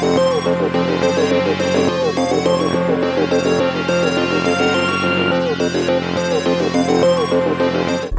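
Beat loop made by a producer: dense layered melodic synths with busy, jittery note patterns over a low bass bed, loud and constant for about eight seconds with no voices.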